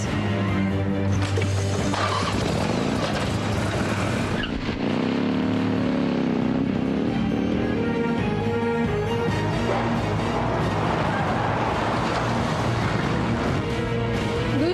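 A loud engine roars continuously, revving and shifting pitch as it races along, with a whine that rises and falls.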